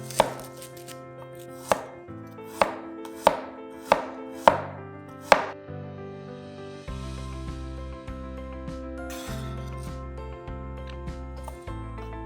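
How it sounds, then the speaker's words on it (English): Knife finely chopping shallots on a board for a pork belly marinade: about seven crisp, evenly spaced chops, close and clear, with soft tonal background music running underneath and continuing after the chopping stops. "finely chop up 2 tablespoons of shallots"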